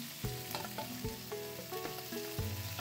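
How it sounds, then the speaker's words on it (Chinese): Fish pan-frying in oil in a wok, a close steady sizzle with several dull knocks and clanks of the wok being tilted and moved, no talking. "咁样可以煎到啲鱼。"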